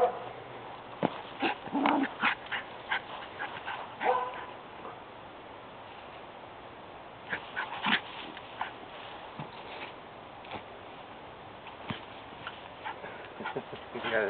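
A puppy gives short, scattered barks and soft whimpers in a quiet indoor space, with occasional yips and light scuffling, while a person speaks in the background at times.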